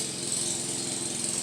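A lawn mower drones steadily in the background, a continuous buzzing engine hum heard from a distance, with no voices.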